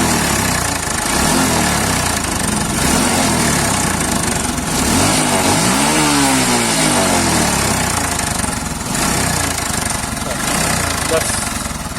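A TVS Victor 3-valve motorcycle engine with a worn timing chain, idling and then revved up and down, with a busy mechanical clatter throughout and voices nearby.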